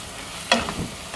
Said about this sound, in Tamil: குடமிளகா போட்டுக்கணும்.